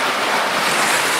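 Ocean surf at a rocky grotto on the Okinawa coast pushes in hard, a loud, continuous roar of breaking water and spray mixed with heavy wind buffeting the microphone.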